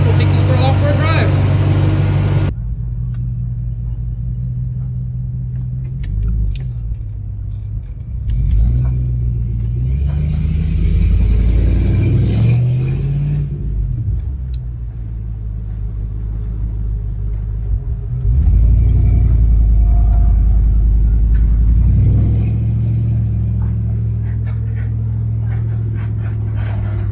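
A 1988 Chevy C1500 truck with a swapped LS engine drives off, a loud, deep engine rumble that rises and falls with acceleration and shifts, close and steady throughout.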